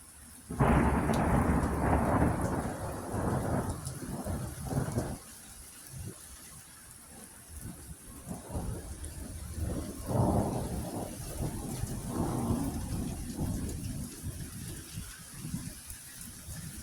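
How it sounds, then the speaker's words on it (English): Thunder in a storm with rain, a loud rolling rumble that fades, then further crackling rumbles and steady rainfall continuing to the end. "give me another lightning bolt"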